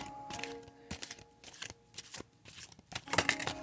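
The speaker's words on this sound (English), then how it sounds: "Try to show you the shuffle." Riffle shuffling of a tarot card deck, several quick papery bursts of flicking cards in an irregular rhythm, close and fairly soft, with brief pauses between shuffles.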